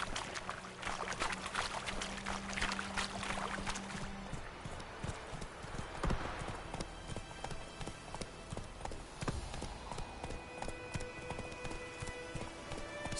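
Roach the horse trots in The Witcher 3, a steady run of clip-clop hoofbeats near and clear, carried over busy background game sound with a brief low tone at the start.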